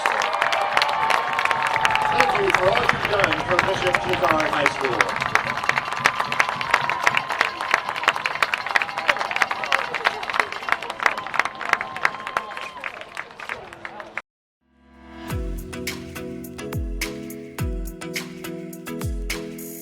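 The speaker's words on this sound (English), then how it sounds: "how about a big Trojan round of applause for our seniors?" Big crowd cheering and clapping for seniors at a Bishop Chatard high school football game, loud and sustained, with a public-address voice speaking over it, then cutting abruptly to unrelated music.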